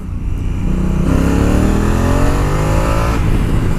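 A Honda Africa Twin motorcycle under hard throttle lifts its front wheel in second gear, the engine loud and close as its pitch climbs steadily, then drops briefly and rises again at the shift.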